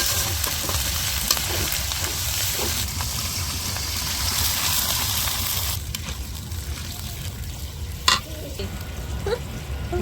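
Ginger-garlic paste and ground cumin frying in a pan with steady sizzling and stirring scrapes throughout, a sharp clink near the end, and faint background voices.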